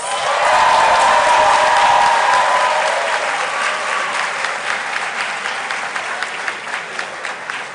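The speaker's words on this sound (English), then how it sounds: "would you give yourselves a round of applause?" Sustained applause from a ceremony audience at a pharmacy faculty white coat ceremony, dense steady clapping that starts loud and gradually thins and softens over several seconds, with no talking.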